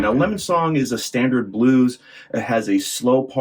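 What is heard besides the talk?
No everyday noises stand out.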